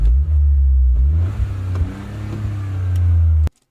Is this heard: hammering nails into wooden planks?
no